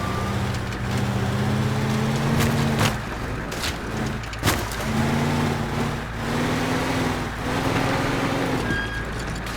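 A truck engine in the video game Teardown drones steadily at low pitch, loud and close, with sharp impact bangs and clatter breaking in now and then.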